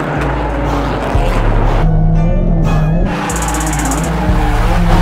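A turbocharged Honda K24-swapped Nissan 240SX with a welded differential drifts in tandem, its engine roaring loud and close with shifting revs, bouncing off the limiter and chirping the tires.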